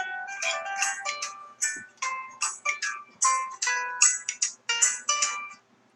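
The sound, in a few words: phone ringing with an incoming call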